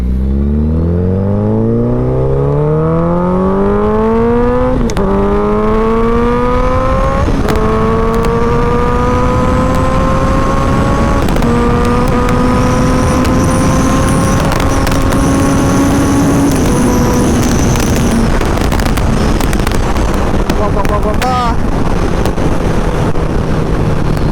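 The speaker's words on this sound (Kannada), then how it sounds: "ಜೆನ್ 3 ಬೂಸಾ ಇವತ್ತೇ ಫಸ್ಟ್ ಓಡಿಸಿರೋದು ನಾನು" A Suzuki Hayabusa Gen 3 superbike weighing about 260 kg is ridden at speed. Its engine note climbs steadily through several gear changes, loud and close, with a drop in pitch at each shift and heavy wind rush over the whole ride.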